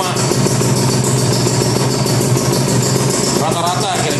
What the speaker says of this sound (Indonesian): Ini kondisi langsam, RPM 1000.